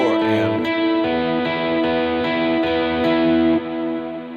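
Electric guitar notes ring out one after another, each trailing into echoing repeats and a wash of reverb that blurs them together.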